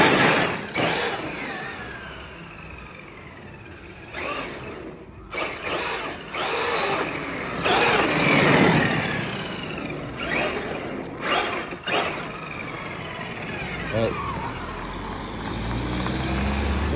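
Traxxas X-Maxx RC truck with new motor bearings and 18/50 gearing on a test run, its electric motor whining in repeated rising bursts of acceleration with gravelly rolling noise in between, moving near and then farther away.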